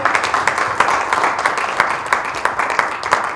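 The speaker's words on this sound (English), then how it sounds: "Can you give them a big round of applause?" Applause from an audience at a community association gathering honoring its board, a dense steady patter of many hands clapping with scattered sharper claps, moderately loud throughout.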